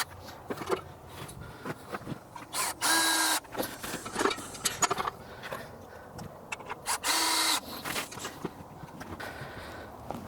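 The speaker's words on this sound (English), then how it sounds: "I'm going to put a couple of screws on this side as well while I'm at it" A power drill drives screws while a forging die is assembled, two loud whirring bursts, each a few seconds long, set against scattered clunks and handling noise in a workshop.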